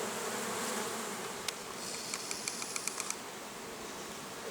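Honeybee swarm buzzing around apiary hives in late summer, a dense, steady drone that fills the whole stretch, with a few faint ticks and taps toward the middle.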